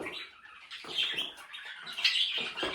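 A male cinnamon cockatiel gives soft, close chirps and short squawky calls in quick irregular bursts, with faint rustling between them.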